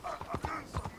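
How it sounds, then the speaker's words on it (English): Horse hooves in Red Dead Redemption 2 clip-clop in a quick, steady rhythm, several hoofbeats close by over a faint background hum. "let me hitch my horse"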